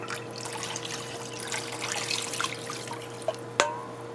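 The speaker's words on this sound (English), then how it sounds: "I'm just going to fill up this bowl with some water, and I'm going to add that to the pot" Water is poured from a bowl into a pot of curry, a soft trickling and dripping heard close up, ending with a sharp clink and splash.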